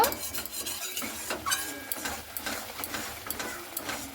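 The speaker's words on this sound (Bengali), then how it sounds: "এরপরে খুব ভালো করে মশলাটা আমি এখানে কষিয়ে নেব।" Masala with salt and turmeric being stir-fried in a pan for a soybean curry, a steady run of scraping, clinking stirring strokes against the metal with a faint sizzle underneath, close and fairly quiet.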